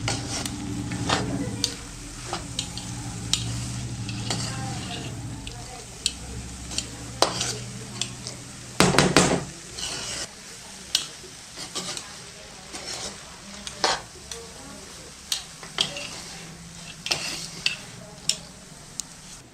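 Boondi laddu mixture with cardamom powder being stirred in a pan, giving repeated scraping and clinking strokes of a spoon against metal with a soft sizzle underneath, close and moderately loud.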